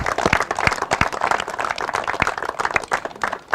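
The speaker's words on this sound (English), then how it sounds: "give a big round of applause" Audience applause at a cricket tournament closing ceremony in Helsinki, a steady patter of hand clapping from a moderate crowd that runs throughout, fairly close and without talk.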